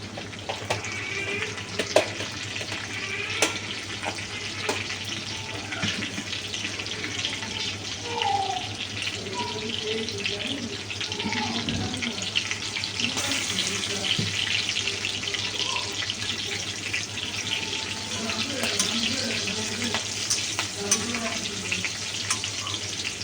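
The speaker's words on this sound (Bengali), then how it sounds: "আমার রসুনটা মোটামুটি ভাজা হয়ে গেছে" Garlic with halved green chili and dried red chilies fries in a pan for chilli chicken, giving a continuous close sizzle with scattered crackles and faint scraping, with some quiet speech at times.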